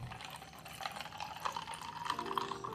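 About a litre of water poured into a lemon and sugar mixture for plain lemonade, a faint, continuous splashing trickle that gets slightly louder as the vessel fills.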